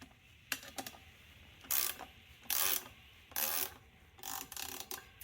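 A ratchet wrench snugging up bolts while assembling a Thiessen tine weeder for a Tilmor E-OX, quiet close clicking in several short bursts of rapid pawl ticks with pauses between strokes.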